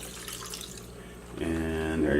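Fruit smoothie pours into a Walmart blender jar, starting as a quiet trickle and swelling into a thick, steady gush that fills the second half of the clip.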